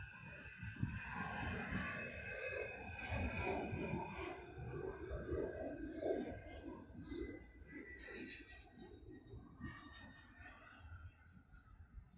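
Airliner taking off from the Honolulu airport runway, a steady broad engine roar that holds loud and continuous throughout, with faint radio-style voices in the background.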